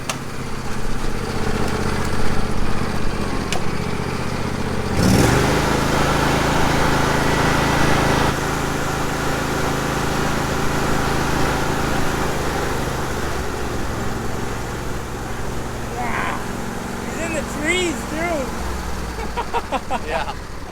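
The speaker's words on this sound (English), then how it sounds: "let's go pull Jordan out, my big tractor unit" A big tractor unit's engine runs and idles steadily, with a thump partway through, while people talk over the low rumble.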